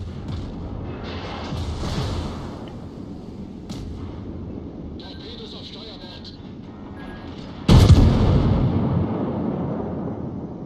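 A six-shell naval artillery salvo in World of Warships lands as a sudden heavy boom partway through, rumbling on afterward over lower game noise and scattered distant firing.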